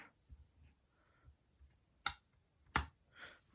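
Folding stock of a rifle being swung shut with one hand, giving two sharp mechanical clacks about a second apart, with a softer rattle and a final click after, nearby in an otherwise quiet room.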